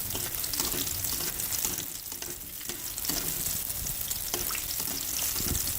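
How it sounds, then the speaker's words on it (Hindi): Raw chicken deep frying in oil over a low flame, giving a steady, dense sizzle and crackle that fills the whole stretch at close range, with no talking. "इसलिए लो फ्लेम पर डीप फ्राई करना है चिकन को आपने"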